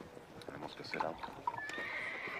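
A horse whinnies in a quiet Western town setting, a faint brief neigh amid low background noise and soft movement, somewhat distant.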